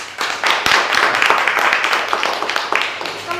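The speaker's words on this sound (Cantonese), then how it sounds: "俾掌聲。" Audience applause greeting a band at a stage show, a burst of scattered clapping rising quickly and holding steady for a few seconds, fairly close, with some voices mixed in.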